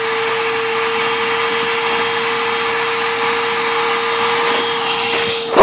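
A vacuum cleaner sucking up snow outdoors, a loud unbroken motor drone with a steady tone, ending in a sharp rising burst at the close.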